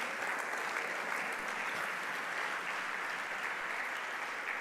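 A steady wash of applause from a church congregation praising the Lord at an evening service, dense and continuous throughout with no gaps or talk over it.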